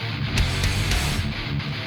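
A thrash metal track plays loud and dense, with distorted guitars, pounding drums and cymbal crashes filling the sound without a break.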